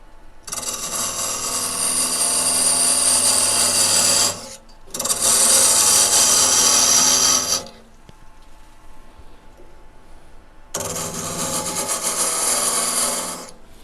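Wood being turned on a lathe, three bursts of loud rasping, hissing cutting separated by short pauses, the last starting after a longer quiet gap.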